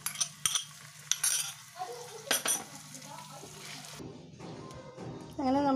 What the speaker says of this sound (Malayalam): നമുക്ക് ഈ മസാല അത്രയും കൂടി കാട്ടി വഴറ്റാം